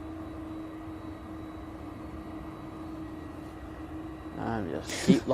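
An Etihad airplane at Manchester Airport gives off a steady engine drone with a sustained hum, then a voice breaks in briefly near the end.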